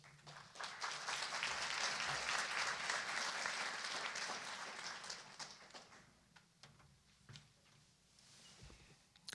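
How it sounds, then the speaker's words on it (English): Dense audience applause fills an honors convocation hall at Arcadia University, loud and steady for about six seconds before thinning into scattered claps and a few footsteps. "Keep clapping"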